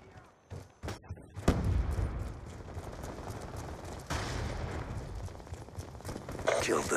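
Gunfire in the video game Black Ops 2 with an M1216 shotgun, bursts of rapid shots and heavy thumps building from sparse pops into sustained loud firing, with a voice talking over it.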